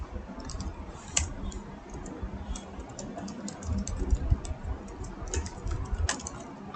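Rapid, uneven clicking of a computer keyboard while Java code is typed, a soft steady patter of keystrokes with a few sharper taps over low background noise, no talking.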